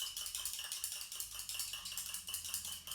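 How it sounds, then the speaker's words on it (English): Rapid rhythmic clinking and rattling of a whisk beating liquid in a container, brisk regular strokes continuing throughout. "the next bit's a little bit noisy because I'm going to have to whisk them all up."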